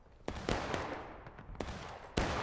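Musket volleys fired on command in the War of Rights Civil War game, several sharp cracks at irregular intervals, some single and some ragged, the last one loudest, with no talk between them.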